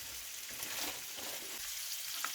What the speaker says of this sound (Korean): 냉동실에 숨어있던 LA 갈비를 넣어줍니다.